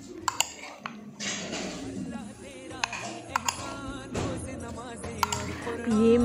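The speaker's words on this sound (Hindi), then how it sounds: "सबको अच्छी तरह मिक्स कर लेंगे" Fruit chaat with sugar being mixed in a bowl: a spoon clinks and taps against the bowl in irregular bursts, with soft stirring sounds between.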